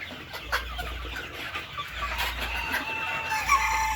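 Chickens cluck steadily in a dense poultry-farm flock of some 650 hens and 750 roosters while a rooster crows, busy farmyard noise throughout with a low hum underneath.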